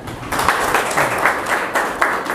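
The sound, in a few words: audience applause at a lecture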